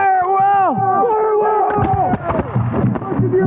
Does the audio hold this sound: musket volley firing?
yes